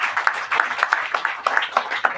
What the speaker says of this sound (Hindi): एक बार तालियां बजाएगी।